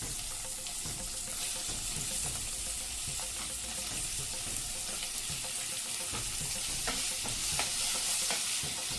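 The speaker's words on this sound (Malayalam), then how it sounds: "നല്ലപോലെ സോസേജ് ഇളക്കി കൊടുക്കാം." Chopped sausage masala with turmeric fries in a pan, a dense continuous sizzle and hiss running throughout with frequent quick scraping stirs close by.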